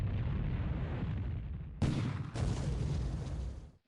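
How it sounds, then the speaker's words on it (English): Heavy naval gunfire from a Pacific War naval combat game, with a steady rumble of sustained firing and a loud, sharp blast cutting in near the end, followed by continued loud firing. "And we got a 50 caliber machine gun firing at it."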